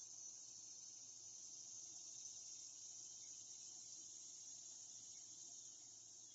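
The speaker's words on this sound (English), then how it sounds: "Got the birds and the cicadas out." Cicadas outdoors in the morning: a continuous high, thin buzzing drone holds steady throughout, faint and distant, with no voices.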